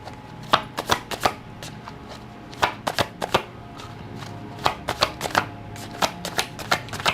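Tarot cards being shuffled for a reading, crisp riffling snaps in quick clustered bursts with short pauses between, close and fairly loud, no speech.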